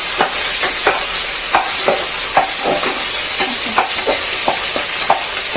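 Onions sautéing in a pan for chicken biryani, a steady loud sizzle broken by repeated clicks and scrapes of stirring, with no talking.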